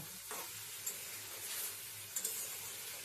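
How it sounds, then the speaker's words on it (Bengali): Spice paste sizzles and hisses in a hot pan with eggplant and potato as it is stirred and sautéed, a steady frying crackle with a few soft scraping stirs. "এখন এটা বেগুন আলুর মধ্যে ঢেলে দেবো মশলাটাকে দিয়েও ভালো করে আমি নাড়িয়ে চাড়িয়ে ভালো করে কষিয়ে নেব"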